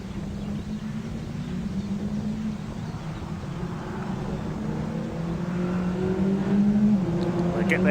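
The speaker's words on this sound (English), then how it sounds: "230 brake horsepower, 2-litre Renault engines powering all of these cars" Midget racing cars with 230-horsepower 2-litre Renault engines drone on a circuit, a steady engine hum rising slowly in pitch and loudness as the cars build speed, under a commentator's voice.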